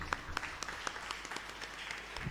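A church congregation claps in scattered, uneven applause, with sharp individual claps rising above a soft background murmur for a couple of seconds.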